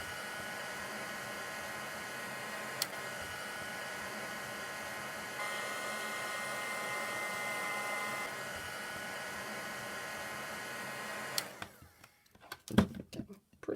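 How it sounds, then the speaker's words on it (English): A heat gun blows a steady, close rush of hot air onto thin craft material for about eleven seconds, the airflow rising slightly midway, then cuts off, followed by a few light handling knocks. "And I'm just going to use my heat gun."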